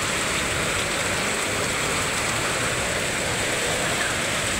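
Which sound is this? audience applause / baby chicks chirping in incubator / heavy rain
heavy rain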